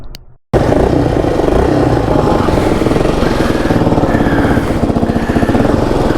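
A homemade Frankenbike motorized bicycle engine starts after a brief pause, then runs loud and close with a rapid, raspy single-cylinder chatter that holds steady to the end.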